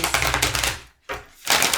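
Stiff tarot cards being shuffled in quick riffling bursts, close and crisp, with two short pauses between runs of rapid flicking clicks.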